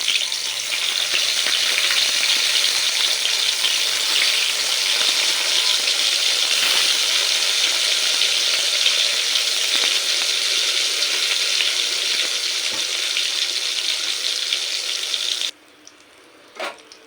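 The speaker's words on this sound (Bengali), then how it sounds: "এবার আমি বেগুনগুলো একে একে ভেজে নেব" Brinjal pieces frying in hot oil in a pan, a loud, dense, continuous sizzle up close that cuts off abruptly near the end, leaving near silence with a faint clink.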